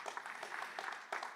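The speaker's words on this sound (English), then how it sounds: "Round of applause for them." Audience applause at a Bitcoin conference, a dense, moderately distant patter of many hands clapping steadily for over a second, with no speech over it.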